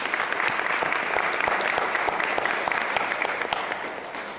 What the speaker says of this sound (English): we'll just give him a round of applause